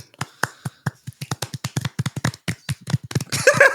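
A played-back clapping sound effect during an F1 podcast: a quick run of sharp, evenly spaced claps, close and dry, ending in a brief burst of noise.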